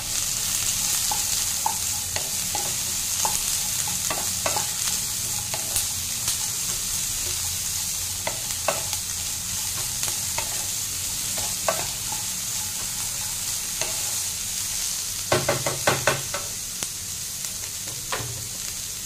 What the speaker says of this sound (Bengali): ক্যাপসিকাম আর পটলটাও দিয়ে দিলাম। টমেটোটা একটু পরে দেব। এবার এটা ভালো মতো ফ্রাই হতে দেবো।